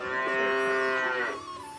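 A cow moos in a countryside cowshed, one long, loud, close lowing call that falls off toward the end, with no talk.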